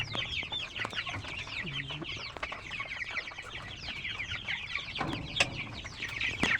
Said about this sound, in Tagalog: Ayan sila po. Native chicken.